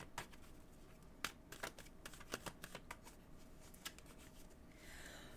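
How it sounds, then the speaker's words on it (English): A deck of cards, apparently tarot or reading cards, is shuffled by hand in a quiet room, giving a series of soft irregular riffling snaps and taps, faint and close. "I'm shuffling now, Promethean."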